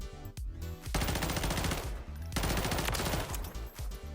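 A BP-50 rifle fires in the firing range of the Modern Warfare video game, two long sustained full-auto strings of loud, dense rapid shots separated by a brief pause.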